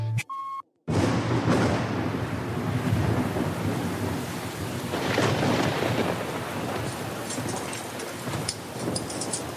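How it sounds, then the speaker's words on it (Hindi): Heavy rain pours in a dense, continuous hiss with deep rolling thunder rumbling through, loud and close, after a brief silent gap at the start. "ये बारिश तो रुकने का नाम ही नहीं ले रही"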